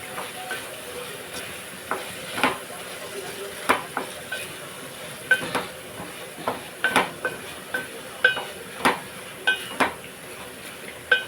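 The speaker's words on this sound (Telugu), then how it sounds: "పక్కన టమాటా పచ్చడి కూడా వేపుతున్నాను" Tomato chutney frying in a pan, with a steady background sizzle broken by repeated sharp scrapes and clinks of a stirring spoon against the metal at an irregular, quickening pace.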